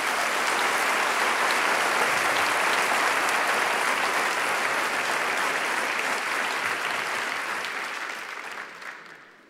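Church congregation applauding during a worship service, a dense, loud and continuous wash of many hands clapping that holds steady for several seconds and then fades away at the end.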